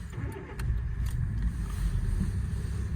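A 2003 Kia Sportage 2.0 XSE MK1 4x4, dry stored for years, starts up; the low engine rumble rises and settles into a steady idle, close and fairly loud, with no talk.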